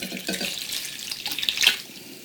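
Water pours into a pot of vegan potato soup, a short, faint splashing trickle lasting about two seconds.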